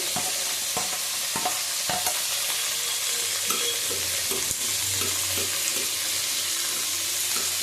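Onion fries in a pan for a fish-bone chorchori, with a steady sizzle and repeated scraping and knocking of a spatula as it is stirred. The sound is close and continuous.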